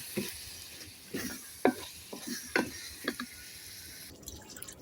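Chicken being mixed by hand or spoon with ground masala for Andhra-style gongura chicken: a series of soft, wet squelching and scraping strokes in an irregular rhythm, close and fairly quiet, with no one speaking.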